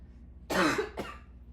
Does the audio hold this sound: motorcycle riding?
no